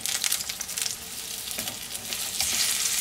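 Seasoned tofu frying in hot oil in a pan, a bright continuous sizzle with crackling bursts that swell toward the end, close and loud with no voices.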